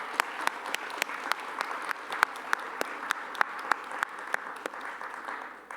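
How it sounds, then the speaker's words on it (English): Sparse, scattered hand claps ring out from an audience at a tech camp's closing session, sharp separate slaps over a quiet room tone rather than a full ovation. "let's give them a round of applause."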